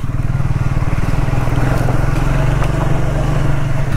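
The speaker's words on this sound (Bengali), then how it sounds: "অনেকজনই যাচ্ছি আমরা, প্রায় তো 8টা প্লাস বাইক হবে" A motorcycle engine drones loud and close while riding on a road at night with a group of eight or more bikes, a steady, rapidly pulsing hum that runs unbroken throughout.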